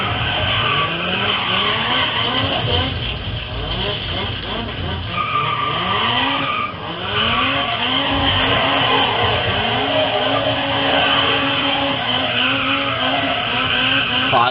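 Loud racing car engines in the video game GRID Autosport rev and whine continuously, with repeated tire squeals and shifting pitch as the cars accelerate, a voice faint underneath.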